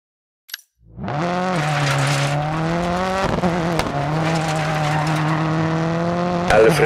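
Rally car in the DIRT 4 racing game braking hard, a loud sustained engine drone with tire skid and squeal running steadily for several seconds, brief clicks at the start and a rising burst near the end.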